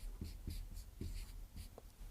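A pen scratches out a diagram on paper in short, rhythmic strokes, close and quiet, during a math lesson on a colored-paper counting problem, with no talking.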